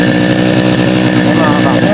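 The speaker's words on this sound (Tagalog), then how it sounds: "start na ulit tayo mag-grass cutter" A grass cutter engine runs loud and close, holding a steady, rough droning whine for the whole moment without letting up.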